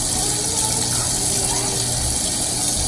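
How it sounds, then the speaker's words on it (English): Hot water runs steadily from a tap while hair is washed, a loud, continuous close-up rush and splatter that holds even throughout with no pauses or talking. "I tend to have the water running while I do it, so with hot water"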